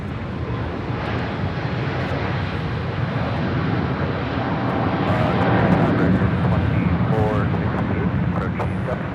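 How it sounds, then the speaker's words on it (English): An Eva Air Boeing 777-300ER departing Los Angeles International Airport, its engines giving a steady, broad jet roar that swells a little midway while a person talks over it. "This is Eva Air Flight 11, departing to Taipei on a 777-300ER."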